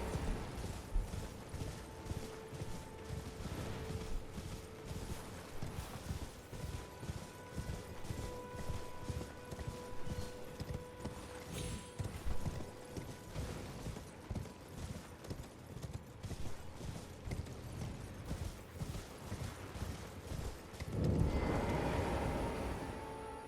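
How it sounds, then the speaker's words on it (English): Steady rhythmic hoofbeats of a horse in Elden Ring clip-clop throughout at a trotting pace, loud and close, with a brief swell of noise near the end. "Get on your horse."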